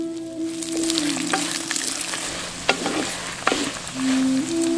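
Peanuts fry in a pan with curry leaves, giving a loud, steady sizzle that runs throughout. A few sharp clinks and scrapes from stirring cut in, and nobody speaks.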